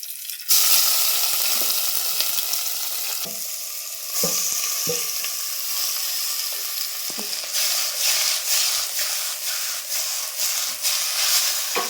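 Fenugreek seeds, curry leaves and a prepared tomato masala fry in a pan. A loud, continuous sizzle and hiss runs throughout, broken by sharp scraping stirs and clinks of the spoon against the pan.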